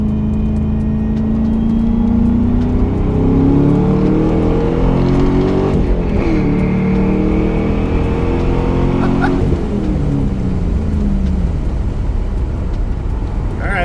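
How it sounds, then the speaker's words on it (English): A stock LS1 V8 in a Pontiac Trans Am WS6, with only an air lid and catback exhaust, pulls hard while merging onto a highway. The loud, steady engine drone climbs through gear changes up close, with no talking. "Let's hear this LS1 merging on the highway."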